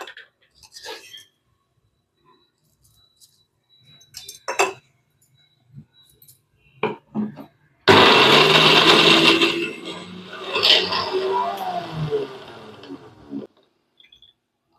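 A few scattered clinks and taps, then a loud mixer grinder whirs for several seconds blending chutney with roasted gram and a little water, briefly dipping before running on and stopping.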